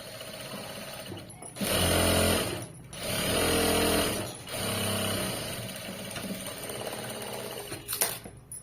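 Home sewing machine stitching two layers of fabric together, a loud close motor whir in several sustained runs separated by brief pauses as the fabric is turned.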